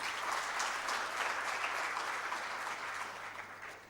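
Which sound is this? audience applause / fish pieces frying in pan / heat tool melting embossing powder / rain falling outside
audience applause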